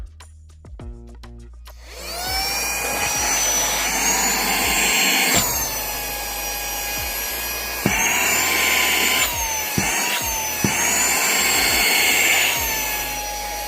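Dnipro-M VC-10BC cordless vacuum cleaner whirring up from a click into a steady high-pitched motor whine, close and loud, shifting pitch as it is switched through its power settings.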